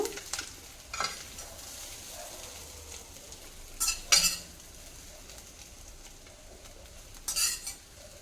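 Fried eggs being scooped from a hot pan into a bowl: a continuous soft sizzle broken by several scraping, clinking strokes of a utensil against the pan, close up, without any talking.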